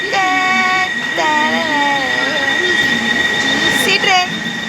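A train at an Indian railway platform, with loud, close wheel and brake squeals warbling over a steady rumble while people talk nearby.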